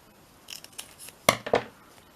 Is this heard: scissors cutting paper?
yes